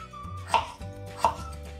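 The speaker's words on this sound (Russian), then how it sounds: "Картошку режем кубиками." A knife chops potatoes into cubes on a cutting board, with two distinct sharp knocks spaced under a second apart over a quiet background hum.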